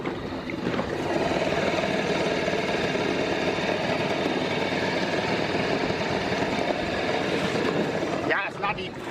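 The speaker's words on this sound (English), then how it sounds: "Puttering around in the dinghy" A small outboard motor on a dinghy putters steadily through shallow water off a Bahamas beach, a close, continuous mid-pitched engine drone that holds for several seconds before a brief dip and a few knocks at the end.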